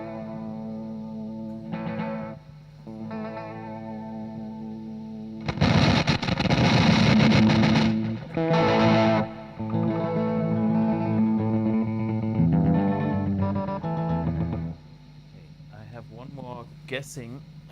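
Electric guitar through a vintage tape echo unit with only the wet signal, heard as washy repeating chords and notes with swelling louder bursts, trailing repeats and warbling pitch toward the end; someone talks briefly over it.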